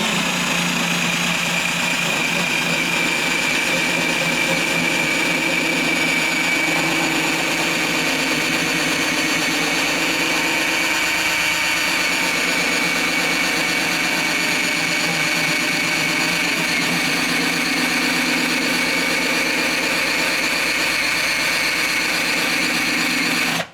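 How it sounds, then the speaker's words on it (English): A rubber eraser wheel spins against the body of a Toyota Tacoma to strip badge adhesive, a steady, loud, high-pitched motor whine that drones continuously without a break. "Now I'm going to use this rubber eraser wheel."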